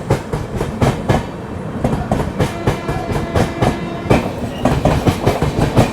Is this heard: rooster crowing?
no